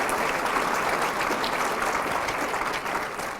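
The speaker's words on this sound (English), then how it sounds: "Can we give them a big, big round of applause?" Steady audience applause fills a news conference with Albuquerque's mayor, a dense sustained clapping that holds at a constant level before easing slightly at the end, with no voices over it.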